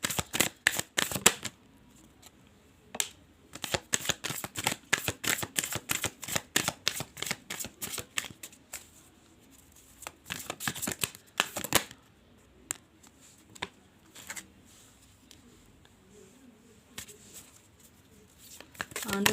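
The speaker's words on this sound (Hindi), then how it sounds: "पहले हम कुछ कार्ड्स निकालें।" Tarot cards being shuffled close up in rapid riffling bursts of dense flicks, several runs separated by short pauses, with speech faint or absent.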